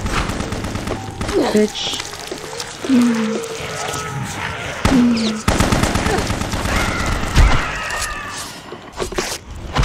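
Rapid gunfire from guns in the BloodRayne video game, loud bursts and shots with glassy impacts and bangs amid chaotic game sounds, while a man swears over the action.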